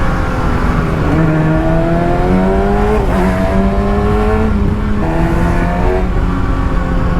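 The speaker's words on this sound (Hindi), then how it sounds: "कैसा लग रहा है स्टॉक एग्जॉस्ट का साउंड आप सभी को?" A stock exhaust on a Kawasaki ZX6R motorcycle revs loud and close, with rising and falling engine tones that hold steady for several seconds, never dropping to idle.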